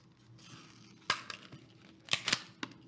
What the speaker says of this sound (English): You're gonna get your scissors and cut the paper out.